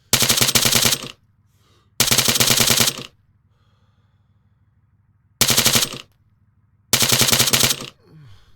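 Rapid automatic gunfire from a King of the Hill shooter game plays on the Zaros map, four loud bursts of about a second each separated by quiet pauses with a low steady hum underneath.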